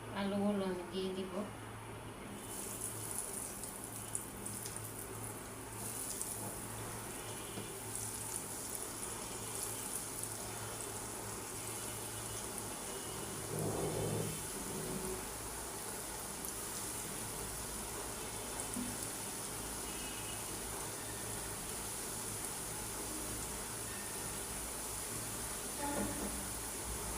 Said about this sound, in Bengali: একে আমি সবগুলো ভেজে নিই।